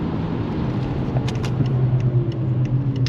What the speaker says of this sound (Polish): Auto przyspiesza, nie czuć żadnych wibracji, jakiegoś wypadania zapłonu, jakichś dziwnych historii.